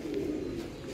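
Pigeon cooing, a low soft throaty coo heard close by for about a second, alone with no talking.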